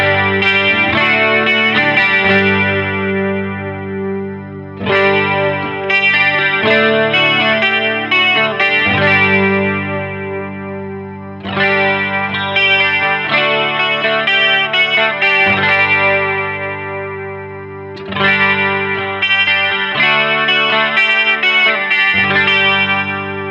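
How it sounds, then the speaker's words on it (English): Electric guitar chords run through a chorus pedal while a low-cut control is swept, the tone growing brighter and thinner; sustained strummed chords repeat in loud phrases of about five seconds, with no talking. "I'm going to start with the low cut. I'm going to sweep that off so you can hear the range of what it does"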